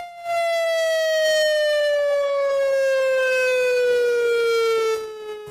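A tornado siren wails steadily during a siren test, one long rich tone slowly sliding lower, loud and sustained for several seconds, with faint background noise.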